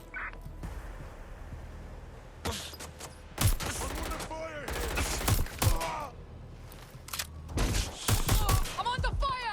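Video game gunfire in Watch Dogs Legion: sharp bursts of shots in clusters, loud and close, mixed with game effects and a character's voice.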